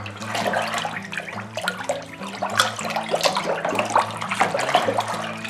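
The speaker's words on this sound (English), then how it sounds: "Going to give it a quick stir." Parsnip wine with added yeast is stirred in a fermenting bucket, the liquid sloshing and swirling in continuous watery surges, close and fairly loud, with no speech.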